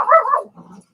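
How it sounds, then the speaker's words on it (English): A single close, loud dog bark comes first, followed by a softer, lower trailing woof, all within about a second. "there goes my dog"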